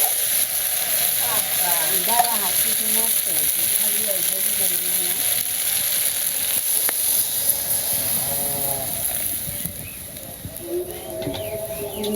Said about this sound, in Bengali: আমার আলু কষানো হয়ে গেছে, আমি জল দিয়ে দিলাম।